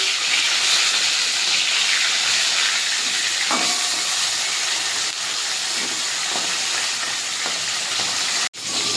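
Pomfret frying in oil, a loud continuous sizzle and hiss, with a few faint utensil taps and a sudden brief drop near the end.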